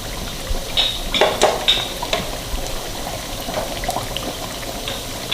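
Chicken kachori deep-frying in oil over a moderate flame gives a steady sizzle and bubble, broken by brief crackles and liquid splashes as the oil is spooned over the top.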